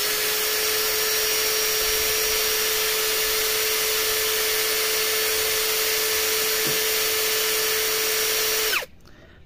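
An APR AP12+ cordless drill runs at maximum on speed 2 with a steady high-pitched motor whine, loud and close, holding constant for nearly nine seconds before winding down abruptly.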